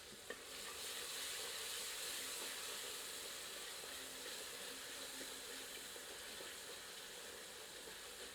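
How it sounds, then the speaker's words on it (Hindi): Onion and garlic-ginger paste fry in a pan after a splash of water, giving a quiet, steady sizzle with faint stirring scrapes and a brief sharp clink near the start. "थोड़े छींटे पानी के मारते हैं ताकि तली में लगा हुआ पेस्ट छूट जाए"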